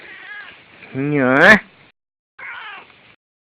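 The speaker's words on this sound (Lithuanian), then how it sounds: "Katinas." A cat meows loudly and close by in one long, rising call, with people talking in a village setting before and after it.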